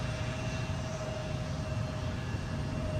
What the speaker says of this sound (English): let's have a bit of Embraer action. It's a 170